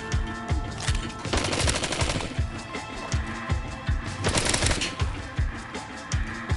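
Online video game gunfire fills the space with dense automatic bursts and sharp single cracks, some heavy and rapid-fire, layered over a constant loud backdrop of game noise.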